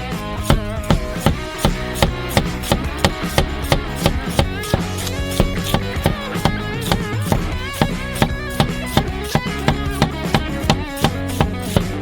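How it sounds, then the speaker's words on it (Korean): A knife chops garlic on a board in quick, steady strokes, a crisp even rhythm of close taps repeating for the whole stretch over a faint tonal background. "칼로 으깨고 잘게 썰어주세요."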